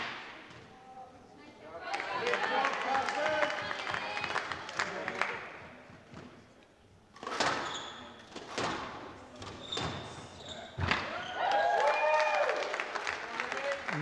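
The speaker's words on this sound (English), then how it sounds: "Nice cheer from the away team, trying to support the player as much as possible" Away supporters at a women's squash championship final cheer and applaud in bursts, a crowd roar swelling and fading several times with ball thuds and court noise between, heard indoors with some voices.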